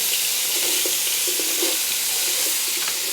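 Garlic and vegetables sizzling in a hot skillet while beef short ribs are being made, a loud, dense, continuous hiss of frying with faint scraping of stirring underneath.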